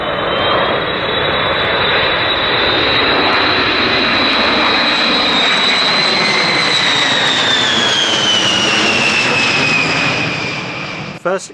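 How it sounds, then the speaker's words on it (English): A B-52 Stratofortress jet bomber roars overhead, a loud, sustained jet engine rumble with a whining tone that rises and falls in pitch as it passes, then cuts off abruptly. "The 1950s were famous for their aircraft, and one remains firmly in service today, the B-52 Stratofortress."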